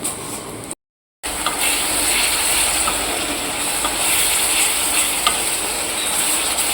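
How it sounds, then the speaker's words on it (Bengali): Spice paste for a katla fish roe fritter curry sizzles and crackles steadily in a hot pan, a continuous bright frying hiss broken by one brief dropout near the start. "মশলাটাকে ভালো করে কষিয়ে নিতে হবে।"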